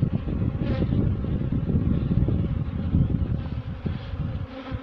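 Honey bees crawling out of an old brood comb frame in a new split colony: a dense, continuous buzzing hum close up, steady throughout without speech.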